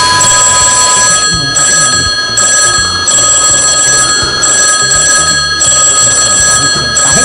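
A telephone rings in steady repeated bursts with a bright, electronic tone, loud and continuous across the whole stretch, with no voices over it, set within a Brazilian children's comedy sketch about a prank call to a radio station.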